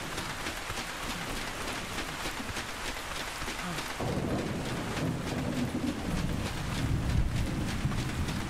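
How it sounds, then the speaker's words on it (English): Rain falls steadily in the Ark Survival Ascended game world, a continuous hiss that thickens with a heavier low rumble partway through, with no talk over it. "We'll do some running since it's raining."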